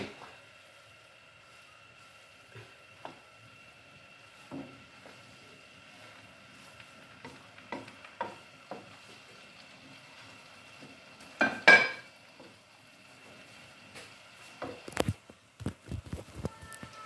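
Pancit bihon noodles stirred in a pan, soft scattered scrapes and taps of a utensil against metal over a quiet background, with a few sharper clinks toward the end.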